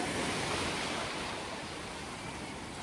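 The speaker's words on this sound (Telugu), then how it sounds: "అలలు కూడా మరీ పెద్దవి కాకుండా మీడియంగా అలా వస్తూ" Medium-sized ocean waves wash onto a beach in Goa in the morning, a steady, broadband surf rush that fills the whole clip and eases slightly toward the end, with no talk.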